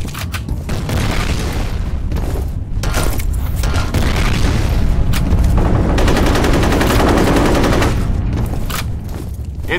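Loud, dense gunfire and booming grenade blasts in the online shooter F.E.A.R. Combat, with continuous rapid weapon fire and heavy explosions filling the whole stretch at close range.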